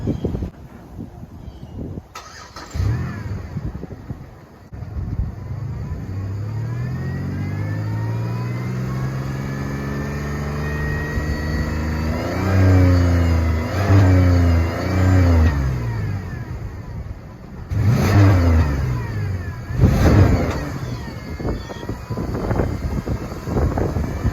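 A Pontiac Grand Prix engine with 255,000 miles, treated with Sea Foam, cranks and catches, idles, then revs up and down in several rising and falling bursts, with wind buffeting the microphone.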